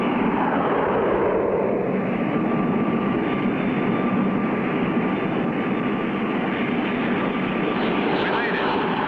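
A steady, droning propeller airplane engine hums continuously through a landing approach in a 1960 Clutch Cargo cartoon, loud and unbroken with no pauses.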